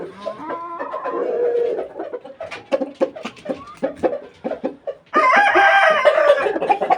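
Chickens and roosters in a backyard coop, with steady clucking and sharp calls through most of the stretch, then a loud, close rooster crow that swells and holds to the end.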